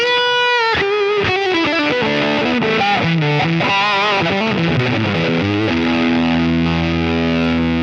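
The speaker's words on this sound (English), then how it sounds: "So there's your sort of distortion" Electric guitar played through a Line 6 Pod Express on its fuzz distortion setting: a short run of notes ending in a long sustained, heavily saturated chord, loud and alone.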